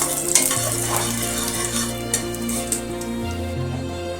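Black cumin, bay leaves and cinnamon sizzling in hot oil in a pan, a steady close crackle with a few light utensil taps, no talking.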